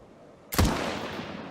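A single loud gunshot in the video game Murder in the Alps cracks out sharply after near-silence, its blast trailing into a long, fading reverberant tail.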